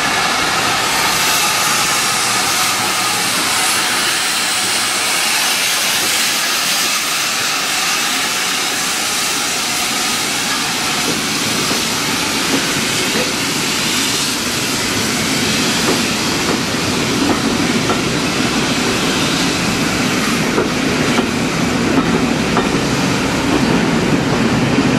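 A heritage train stands at Bishops Lydeard station platform on a steam railway from Minehead, giving a loud continuous rumble and hiss with faint rail clatter that swells toward the end, and no one speaks.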